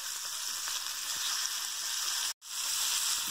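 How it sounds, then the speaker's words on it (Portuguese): Shrimp grilling in a hot pan give a steady, close sizzle and crackle throughout, broken by one brief silent gap near the end, with no talking. "Eu vou grelhar eles por 3 minutos, girando de tempos em tempos, ficando a metade do tempo de cada lado"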